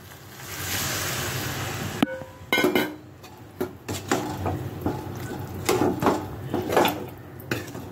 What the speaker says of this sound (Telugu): ఉడుకుతుందండి.